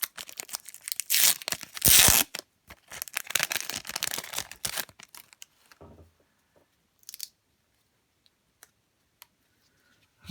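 1992 Studio baseball card wax packs being torn and cut open with scissors, with bursts of crinkling paper and wrapper tearing, then a few sparse clicks and snips before near silence.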